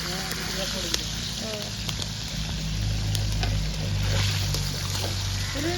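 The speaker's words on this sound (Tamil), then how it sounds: "இப்படி தான் பொறிச்சு சமைக்கிறேன்" Food frying in a pan during outdoor cooking for a village almsgiving meal, a steady broadband sizzle running throughout, fairly loud and close, with occasional clinks and faint voices in the background.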